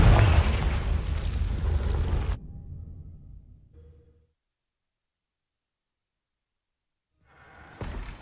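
Confringo blasting curse explosion in Hogwarts Legacy: a loud, broad burst that rumbles and fades over about four seconds, followed by silence and a second, quieter blast starting near the end.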